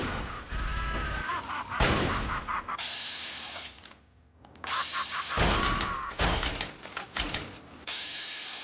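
Rapid, loud minigun fire in the video game Fallout 3, sustained bursts with a short pause in the middle, then resuming with heavy repeated thuds.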